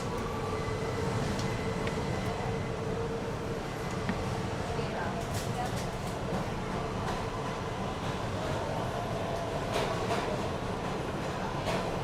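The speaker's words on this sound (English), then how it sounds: "All right, let's take the train." A New York City subway train ride in Queens, a continuous loud rumble and rattle of the car on the rails with clanks and squeals, steady for the whole stretch.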